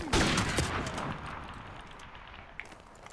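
Rapid video game gunfire bursts loudly at the start, then trails off into a fading rumble with one more sharp crack near the end.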